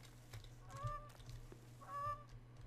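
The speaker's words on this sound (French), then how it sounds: "Alors là, normalement, il y a des oies qui volent." Geese honk in the survival game The Forest, two faint drawn-out honks about a second apart against a low steady hum of ambient game sound.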